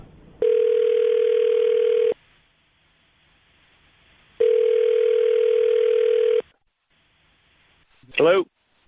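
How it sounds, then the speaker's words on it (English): A telephone line tone sounds during a call placed by radio show hosts, two loud steady two-second bursts separated by silence, followed by a brief voice as the line connects. "I'm going to dial the phone number right now."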